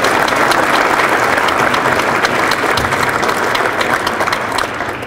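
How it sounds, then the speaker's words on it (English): A banquet crowd at an annual meeting and awards dinner claps in one more loud, full round of applause, a dense roar of many hands that holds steady and eases off slightly at the end. "how about one more round of applause for George Roman and his team?"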